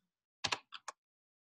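A few quick keystrokes on a computer keyboard, a close double tap followed by two lighter clicks, then quiet.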